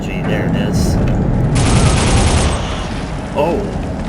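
SMG gunfire in Soldier of Fortune, dense rapid bursts of shots crackling over a rumbling, explosive background, close and loud, with a short gap and a brief voice-like sound near the end.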